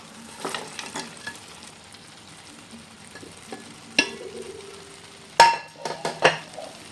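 A spoon stirs fried chicken kondattam in a pan with a Kashmiri chili sauce, making a soft sizzle with scattered clinks and sharp scrapes against the pan, loudest near the end.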